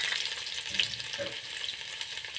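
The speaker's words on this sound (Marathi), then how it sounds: "मी इथे फोडणी घालत आहे" A steady, soft sizzle of tempering in hot oil for baingan bharit, continuous and fairly quiet, with no voices.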